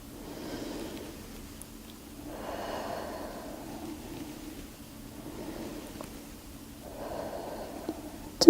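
Slow deep breaths during a back stretch, three soft audible inhale-exhale cycles close to the microphone in a quiet room.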